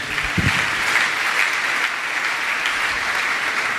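A church congregation applauds at a worship service, steady sustained clapping filling the room from start to finish, with a few low voice sounds near the beginning.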